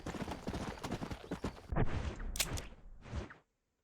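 A horse in the Red Dead Redemption video game, hooves clip-clopping in a quick, irregular run that breaks off abruptly and leaves silence.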